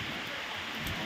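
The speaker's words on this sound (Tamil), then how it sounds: "சைனாவில் சரியான மழை பெஞ்சிக்கிட்டு இருக்கு." Heavy rain with strong wind in China pours down as a dense, steady hiss, close and loud throughout the short stretch with no talking.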